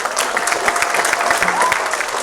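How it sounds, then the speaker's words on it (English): A seminar audience at a talk on selling annuities and Medicare gives a brief round of applause. Brisk, moderately loud clapping lasts a couple of seconds. "So everybody give them a round of applause."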